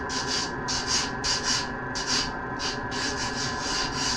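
A chamfer is shaped by hand on an edge, with rhythmic rasping strokes repeating about twice a second. The scraping is close and even, with no voices.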